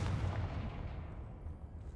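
A Confringo spell goes off in Hogwarts Legacy as a single deep, rumbling blast that dies away slowly over two seconds, heavy in the low end, with no talking.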